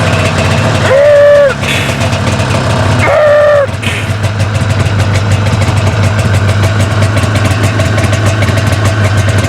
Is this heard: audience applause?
no